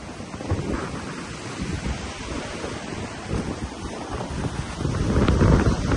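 Strong wind from Typhoon Carina roars into the microphone with heavy buffeting, while crashing waves rumble low underneath, building louder toward the end.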